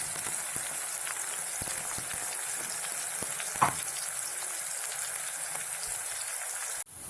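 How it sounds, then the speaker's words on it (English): Continuous sizzling of chopped capsicum frying in hot oil, steady and close, with a few faint clicks and a brief stir midway. "Once the oil heated, I use all the capsicum that I have chopped, and I'm going to just fry it"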